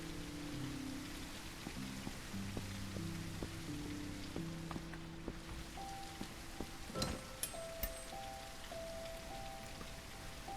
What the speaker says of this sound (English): Stop raining.